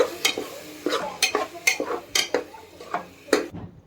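A ground masala paste is being mixed into a fried mixture in a pan. About a dozen rhythmic scraping strokes sound close and distinct over a faint sizzle, with no talking.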